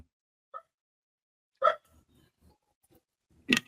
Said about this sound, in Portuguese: Isabelinha, para de latir, gente.